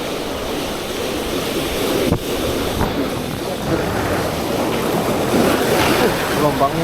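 Large ocean waves break and wash onto a beach in strong wind, a continuous loud roar of surf with gusts buffeting the microphone and a few sharper crashes along the way.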